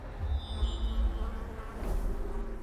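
Insects buzz from a hive in the video game Darkest Dungeon, a continuous droning hum with faint higher whines, steady and moderately loud with no speech.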